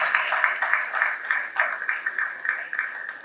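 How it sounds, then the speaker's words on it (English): Audience applause for Captain Asha at a university panel discussion on gender bias, a steady moderate clapping that keeps going for the whole stretch with faint voices mixed in. "we have a big round of applause for good Captain Asha"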